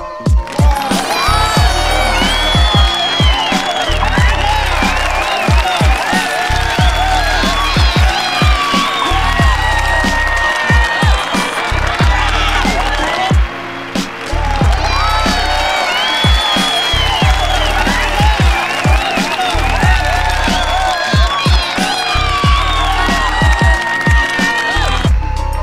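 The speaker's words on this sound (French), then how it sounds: "ne soyez pas timides et on applaudit ensemble." Loud crowd applause and cheering with whoops and whistles over dense clapping, steady and continuous throughout, apparently a repeating loop, played for an online daily bulletin.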